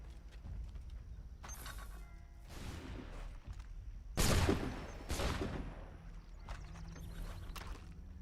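Musket volleys crack out in the Assassin's Creed III Remastered video game, several broadband bursts spread across the clip, with the loudest, closest blast near the middle, over a steady low ambient rumble.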